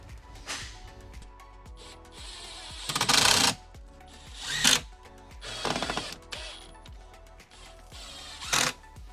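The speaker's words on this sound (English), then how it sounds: "I'm gonna get some wood glue, put some screws in here, and we'll get this attached." Screws are driven into wood framing inside a Mercedes Sprinter van build, heard as five or six short, loud whirring bursts with mechanical clicks and handling noises in the gaps between.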